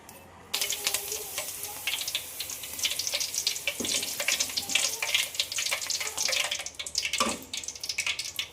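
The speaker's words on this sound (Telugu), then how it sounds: "కొంచెం పచ్చిమిరపకాయలు కొంచెం కరివేపాకు అయితే ఆయిల్లో అయితే కొంచెం ఫ్రై చేసి వేసేసుకుందాం" Green chillies and curry leaves spit and crackle in hot oil, a bright, busy sizzle with popping bursts that starts abruptly and continues loudly and close, with no talking.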